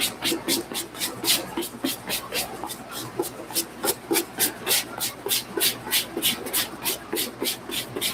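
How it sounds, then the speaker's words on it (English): A dry medium-bristle brush is scrubbed over a suede shoe in quick, even back-and-forth strokes, a close, steady rhythmic rasping that repeats for several seconds. "Now we're gonna take the dry medium bristle brush once again, brush everything out."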